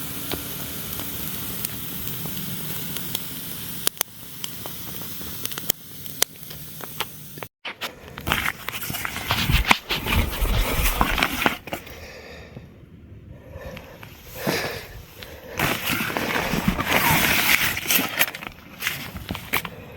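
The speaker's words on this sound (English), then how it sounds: "So our fire is cooking away." A campfire burns at a winter bushcraft bivy camp where steak is being cooked, with irregular close crackles, hisses and pops, scattered rustling and thuds, and a few loud bursts partway through.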